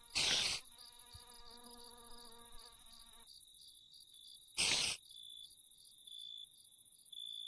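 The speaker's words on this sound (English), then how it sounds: "I've come across this guy. Not a boss. A blood mosquito?" A blood mosquito mob from the Minecraft Unlimited 2.0 mod gives off a thin, steady insect buzz for about three seconds, then goes quiet. Two short, loud bursts of other game noise break in around it.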